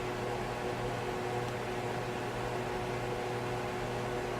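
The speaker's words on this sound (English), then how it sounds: "So just excuse the fan noise." An electric fan runs in a room, giving a steady, even hum and broadband whoosh at moderate level with no other sounds.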